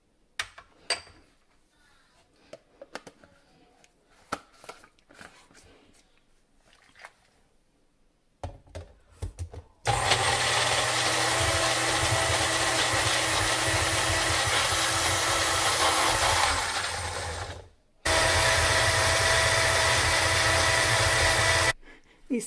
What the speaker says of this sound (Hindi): इसको पीस लेंगे बारीक पेस्ट